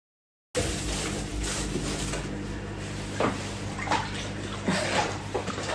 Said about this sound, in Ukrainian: Вода булькає.